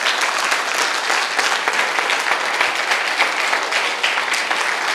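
Many hands clap steadily and evenly in an indoor audience at a training event, a continuous full round of applause with no pauses, fairly close and fairly loud.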